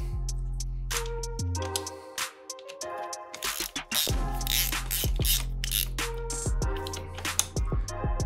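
A socket set and spanner tighten nuts on a dirt bike's rear brake pedal, giving close ratcheting clicks and metallic mechanical rattles in irregular bursts with no speech.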